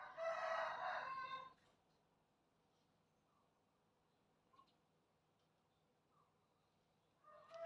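A rooster crows loudly and close by for about a second and a half, then the scene falls quiet apart from faint scattered sounds, with a second crow starting just at the end.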